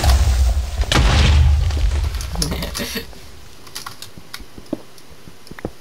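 A block explodes in Minecraft with a loud, heavy boom and a long low rumble that fades after about two seconds, followed by scattered quiet clicks and taps.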